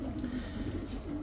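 White racing pigeon cooing at the loft after a race, soft low coos repeating close by over a steady background.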